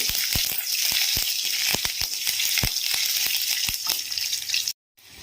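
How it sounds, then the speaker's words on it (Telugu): Green chili and curry leaves frying in oil in a pan, a bright crackling sizzle with sharp pops and spatters throughout, close and loud, cutting off abruptly near the end. "ఒక పచ్చిమిర్చి ఒక రెప్ప కరివేపాకు వీటిని మంచిగా ఫ్రై చేసుకోవాలి"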